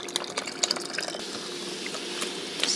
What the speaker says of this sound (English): Then mix wet and dry ingredients together.